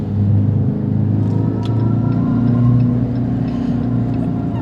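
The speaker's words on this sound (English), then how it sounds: "the exhaust sounds are fun" A 2025 Dodge Charger Scat Pack accelerating onto a highway, its exhaust a deep, steady rumble heard from inside the cabin, loud and continuous with no talk.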